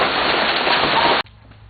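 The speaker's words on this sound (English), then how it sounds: "we got hail here in Connecticut. It's going crazy." Hail pelting down outside in Connecticut, a dense, loud, steady roar of ice hitting surfaces that cuts off abruptly, leaving quiet background.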